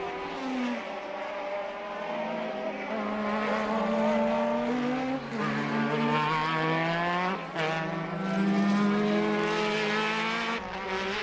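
A 1984 Williams Honda Formula 1 car driven by Keke Rosberg races at the Dutch Grand Prix, its high-pitched engine whining loudly through rising and falling gear changes as it passes, with other cars audible around it.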